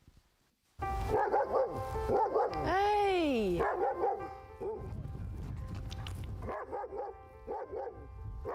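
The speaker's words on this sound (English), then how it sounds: "Great public order dog." A Kent Police public order dog barks loudly and repeatedly at close range, with one drawn-out whining yelp partway through. A person shouts once near the start.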